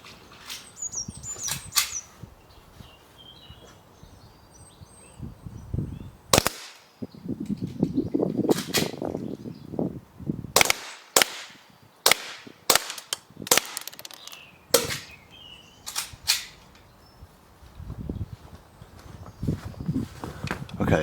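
A WE 1911 full metal gas blowback airsoft pistol firing at a target about five meters away, sharp isolated cracks in irregular strings with pauses between, close and loud over quiet background.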